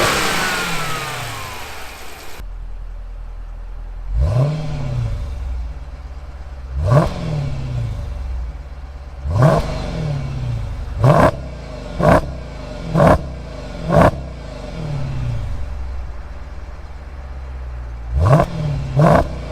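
A stock-exhaust Dodge Challenger 392 SRT Hemi opens with a loud start-up, then gives a series of sharp throttle blips that rise and fall over a deep idle, with quicker revs bunched together toward the end.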